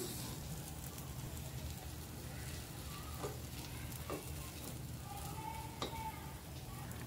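Mini chocolate cakes frying in ghee in a pan, a soft, continuous sizzle with a few light clicks and scrapes of turning, close but quiet and without speech.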